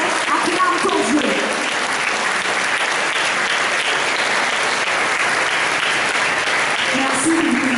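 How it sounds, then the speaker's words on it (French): Church congregation at a French-language worship convention cheering and applauding loudly and steadily, a dense, continuous roar of clapping and shouts that fills the whole stretch. "Est-ce qu'on peut acclamer Jésus en ce lieu?"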